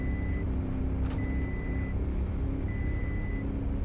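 A truck drives at full speed in a tornado rescue video game, giving a loud, steady engine roar with whistling tones and a brief clatter partway through.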